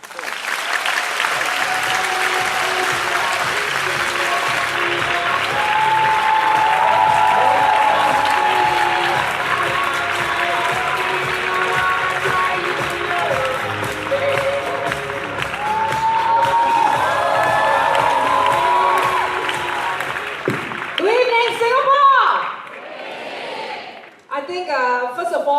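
A seminar audience in Singapore applauds and cheers loudly for about twenty seconds as a speaker is welcomed on stage, with whoops and tonal music mixed in, then the ovation breaks off abruptly.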